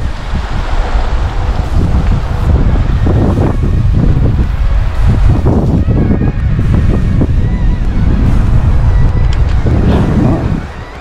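A strong wind blows hard at an outdoor spot in Chhusang, a loud, continuous roaring buffet against the microphone that rises and falls in gusts throughout.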